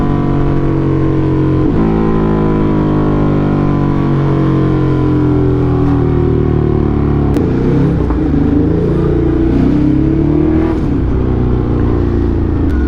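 Motorcycle with an SC Project exhaust riding through traffic, its engine revving loudly with rising and falling pitch and blipping through downshifts, close and continuous.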